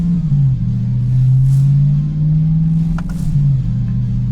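A C8 Corvette engine runs on a chassis dyno in 4th gear, a loud steady low drone whose pitch wavers slightly while sustained under load, with a couple of faint clicks and no talk.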